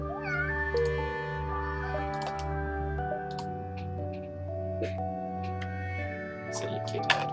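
A pet cat meows repeatedly near a computer keyboard indoors, several moderate, fairly close mews over a steady low hum, with occasional soft clicks and no speech.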